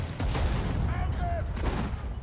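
Battlefield gunfire from the strategy game Sudden Strike 4: a dense, continuous roll of artillery and small-arms shots, loud and close throughout, with brief in-game radio voice fragments.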